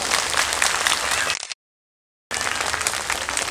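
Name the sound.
audience clapping loudly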